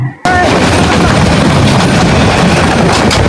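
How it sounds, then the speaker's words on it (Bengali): A passenger train travelling from Dhaka's Kamalapur station toward Narsingdi roars in a loud, continuous rumble and clatter from close range, with no break after a brief quiet start. "আর অসাধারণ একটি ট্রেন জার্নি।"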